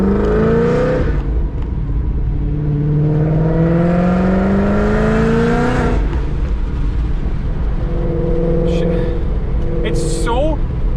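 A built 1000 hp Mustang GT500 engine revs hard and close, its pitch sweeping up in rising pulls with a rough, aggressive burble between them, while voices talk over it.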